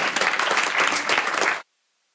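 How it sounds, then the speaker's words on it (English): A crowd at a school board meeting applauds briefly, a dense burst of clapping that stops abruptly into silence. "So, clap for him."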